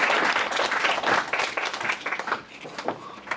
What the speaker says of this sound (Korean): 박수 얘들아.